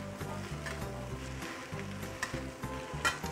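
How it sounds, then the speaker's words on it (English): Rice vermicelli (beehoon) tossed in gravy in a wok, giving a steady close sizzle with rhythmic scraping and tossing scuffs and a few sharper clatters, no voices. "all you need to do is give it a few toss until all the gravy has wrapped the beehoon very evenly"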